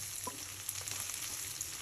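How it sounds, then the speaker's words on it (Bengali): Whole garam masala of cinnamon sticks, cardamom pods and two bay leaves fries in hot oil after onions, a steady fine sizzle with a few soft crackles and stirring clicks, close and even throughout. "আমি এখানে তেলের মধ্যে গরম মশলাটা দিয়ে দিই।"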